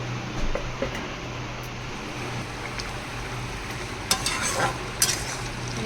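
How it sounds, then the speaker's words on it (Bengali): Fish simmering in a boiling Bengali curry gravy for bhindi ambal, a steady low bubbling and stirring sizzle with a few sharper clinks and spatters near the end. "ঝোলটা আমার ফুটে গেছে, এবার মাছগুলো দিয়ে দেবো।"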